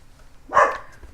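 A single short bark from a lying-down dog, close and fairly loud, against near silence.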